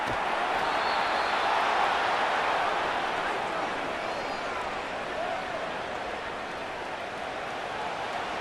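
Simulated stadium crowd roar from Madden NFL 25 during a Giants vs. Vikings game, a steady dense wash of noise holding at a constant loud level before a third-and-short snap.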